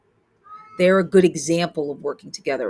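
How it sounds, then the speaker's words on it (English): A pet cat meows loudly and insistently, its calls mixed in with a person talking close by. "That's our cat Lovecraft meowing at the top of his lungs."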